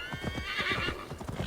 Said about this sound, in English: Horse is getting tired.